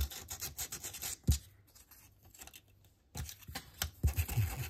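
Paper edges being distressed for a papercraft mini file folder, heard as bursts of close, dry rubbing and scraping strokes broken by a quiet pause in the middle.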